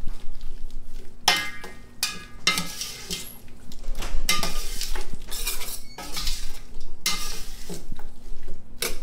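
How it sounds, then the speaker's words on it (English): Spoon scraping and knocking in a pot while stirring spices into leeks and potatoes for potato leek soup, with irregular clattering strokes and a soft sizzle underneath, close and fairly loud, with no talking. "I just want to get all the spices mixed into this"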